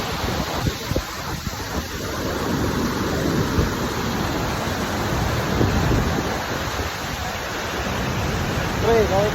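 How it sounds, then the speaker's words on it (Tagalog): The Manitou Falls on the Manitou River in Quebec, Canada, run high, giving a loud, steady rush of roaring water that fills the whole stretch close to the microphone, with some wind noise and no talk. "Lakas ng tubig ngayon."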